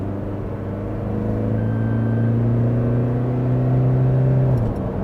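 An automatic Toyota Fortuner 4x4 accelerates hard from about 40, its engine a loud, close drone rising steadily in pitch for over four seconds before easing off.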